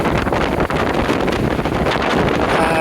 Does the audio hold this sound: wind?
yes